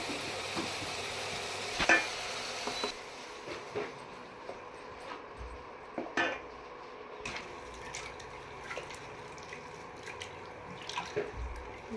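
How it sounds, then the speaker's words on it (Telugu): Turmeric, ginger and coriander stirred in a pot on an induction cooker, giving soft scraping and clinking strokes over a low sizzle, with a few sharper knocks near the start and scattered light taps later. "పసుపు అల్లం కొత్తిమీర మిక్స్ అవుతుంది"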